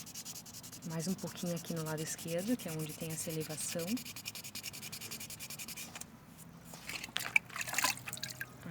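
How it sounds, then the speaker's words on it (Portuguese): Waterproof sandpaper rubbing wet over a resin piece in short repeated strokes, close and soft, with a person talking over the first half before quieter scraping continues. "Sempre molhar bastante, porque essa lixa tem efeito sobre a água"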